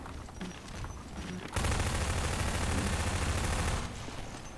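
A rapid, loud burst of automatic gunfire from the video game Half-Life 2 Deathmatch lasts a couple of seconds, with quieter game sounds before and after it.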